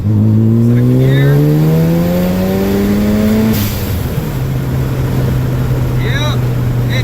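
Car engine climbing in pitch as it accelerates in second gear just after a transmission repair, steady rising drone from inside the cabin, then settling to a constant hum; someone talks briefly over it.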